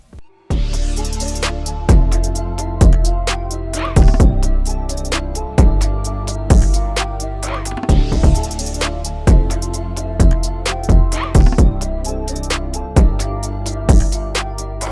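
A sample-based hip-hop beat plays with heavy booming 808 bass hits, risers and punchy drums in a steady rhythm, layered with sampled melodic elements and no talking.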